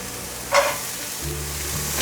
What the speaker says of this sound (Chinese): 现在放入红萝卜，